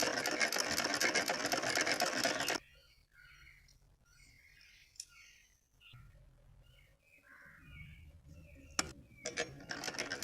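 A sewing machine stitches lace onto the sleeves of a small doll dress. It runs loudly in a steady, fast mechanical whir for a couple of seconds, then stops, leaving faint rustling and clicks before it starts briefly again near the end.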